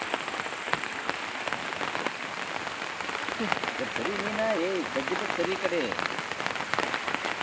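Steady rain patters on surfaces in a garden plantation, a dense close hiss of drops, with people talking briefly over it partway through.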